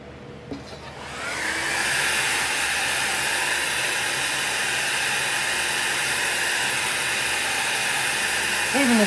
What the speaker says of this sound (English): my dryer's back on cool